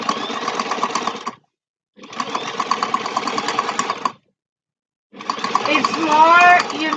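A sewing machine stitches layers of fabric together for a small crafted bag, running loudly up close in three bursts of steady rapid whirring. Each burst stops abruptly before the next, and a voice talks during the runs.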